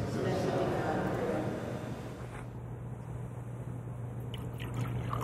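Water poured into wine in a chalice during a daily Catholic Mass, a soft steady trickle and drip under a continuous murmuring voice in a reverberant church.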